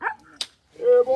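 A dog gives a single sharp, close bark at a Pledge of Allegiance gathering. A voice is heard around it.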